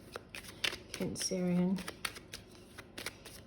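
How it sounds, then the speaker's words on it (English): Tarot cards being shuffled in a series of quick crisp riffles and flicks, close and fairly soft, with a person speaking briefly in the middle. "These cards are really making me shuffle this week for you."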